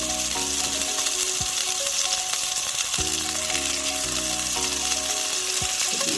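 A homemade Sindhi-style beef burger patty fries in a hot pan, giving a constant close sizzle with occasional clicks and light knocks from the cookware.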